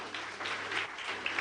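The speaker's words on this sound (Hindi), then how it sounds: "तालियां बजाओ इसके लिए" A classroom of students claps in brief, bright, dense applause for a classmate, close and continuous for just over a second.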